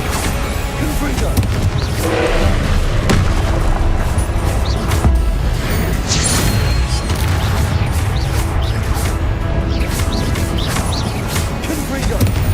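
Confringo fire spells in Hogwarts Legacy, blasting one after another as loud booms and crashes over dense, continuous combat noise, with impacts landing every second or two for the whole stretch.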